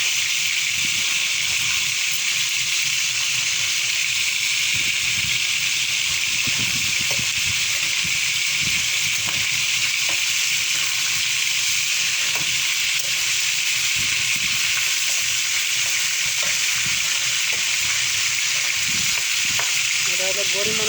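Fish fries in a pan with a loud, continuous close sizzle and crackle of oil, joined by occasional clunks and bursts of spattering over the long stretch.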